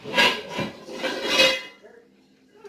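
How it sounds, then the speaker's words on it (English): A large lid scrapes and clanks several times against a cast iron pot in a kitchen, with close metallic rattling bursts that stop after about a second and a half. "Once I get this gigantic lid that goes on top of it."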